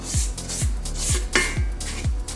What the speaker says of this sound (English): Always scrape down your bowl, especially at the beginning, because things get stuck to the bottom